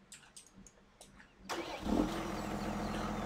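Tractor engine starting in the video game Farming Simulator 17: a few soft clunks, then the engine cranks and catches into a loud, steady, close diesel-like idle with no talking.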